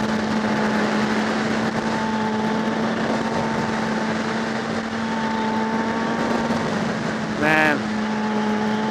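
A motorcycle drones steadily while being ridden, a constant engine hum with a sustained low tone under wind rush, and a brief sharp warble near the end; a rider speaks briefly.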